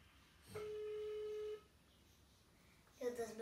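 A phone call rings out on a poor connection, with a single steady ring tone lasting about a second, then quiet line hiss and a short garbled burst at the end.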